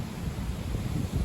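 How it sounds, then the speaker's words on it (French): Strong west-southwest wind at 60 km/h under a post-frontal sky, a steady broadband rush buffeting the microphone with low rumble and no pauses. "On a un vent d'ouest là, d'ouest-sud-ouest à 60 km/h là."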